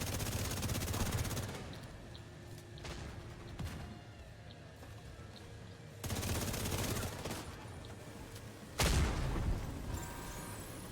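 Gunfire from The Division 2, with dense bursts of automatic fire and layered shots in several loud clusters, easing between volleys and erupting again sharply near the end, with no speech.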